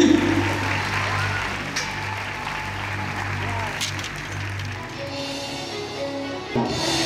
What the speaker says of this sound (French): Un tonnerre d'applaudissements pour Frédéric Adelstein et ses 12 lions blancs